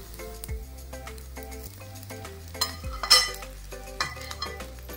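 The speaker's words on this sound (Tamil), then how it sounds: "இப்போ நம்ம இங்கே குக் பண்ணி வச்சிருக்கிற ஃபிஷ் பீசஸை ஆட் பண்ணிடலாம்" Cooked mackerel pieces go into a pan for fish podimas and get stirred, with light scraping and clinks of a spoon against the pan under steady background music.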